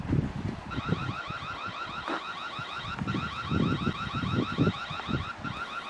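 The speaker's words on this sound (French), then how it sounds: "Ici, j'ai choisi d'avoir une alerte sonore depuis la caméra" Motion-detection alert from a home security camera: a steady electronic alarm of rapidly warbling tones repeats continuously, loud and close, over faint wind noise, with no talking.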